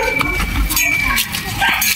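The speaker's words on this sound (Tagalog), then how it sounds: "Yung mga aso." Dogs at a two-storey house in Bataan give short, close barks and yips mixed with metallic clinks, with people talking over them.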